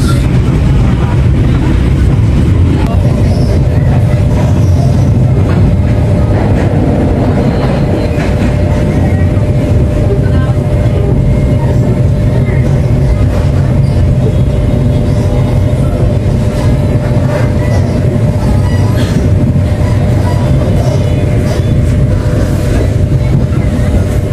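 Steady rumble of a Ranggajati executive-class passenger train rolling on rails between Jember and Yogyakarta, heard from inside the carriage near Sidoarjo station, with a constant low drone and faint clatter throughout and no talk.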